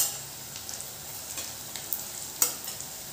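Chopped onion fries softly in a pan for methi bhaji, turning tender and lightly browned, with a steady low sizzle and a few sharp scrapes and clinks of a spoon stirring.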